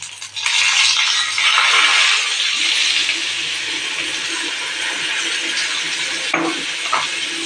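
Ground amla paste from the mixer tipped into a hot pan: a loud burst of broad hissing sizzle that settles into a steady crackle, with a brief knock of a utensil near the end.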